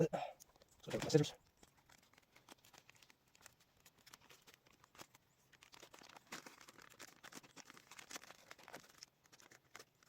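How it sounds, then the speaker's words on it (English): A plastic trash bag crinkles loudly near the start, then scissors snip off its bottom in a series of faint, irregular cuts through the thin plastic, outdoors at a camp. "once you got our first trash bag opened up, we're going to cut the bottom of it off"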